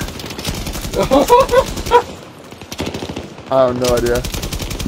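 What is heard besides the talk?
LMG gunfire in Battlefield 2042 video game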